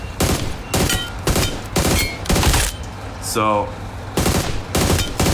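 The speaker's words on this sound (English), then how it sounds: "So if you're shooting" Rapid bursts of gunfire in PUBG Mobile, a mobile shooter game, come as repeated broadband bangs in short volleys, with a brief voice heard between shots.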